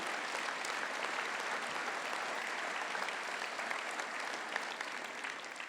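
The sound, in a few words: audience applause for the municipal music school orchestra and choirs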